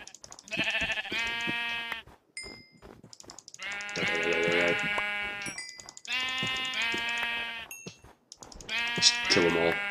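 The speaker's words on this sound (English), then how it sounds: "Don't have any iron, so I'll just kill these sheep." Sheep in Minecraft bleat repeatedly in loud, close, harmonic bursts, several calls overlapping across the stretch with brief gaps between them.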